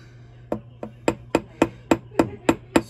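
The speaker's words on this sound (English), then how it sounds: "So I'm going to do the chasing hammer first using the ball peen end." Ball peen end of a chasing hammer striking a rivet, nine sharp metallic taps in a steady rhythm about a quarter second apart, close and clear over a faint hum.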